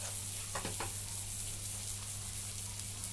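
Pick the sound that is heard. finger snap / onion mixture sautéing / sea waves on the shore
onion mixture sautéing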